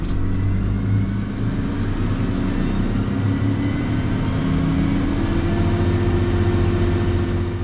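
A Valtra tractor engine runs steady and loud during exhaust regeneration, a constant low rumbling drone with a gradually rising tone and no speech over it.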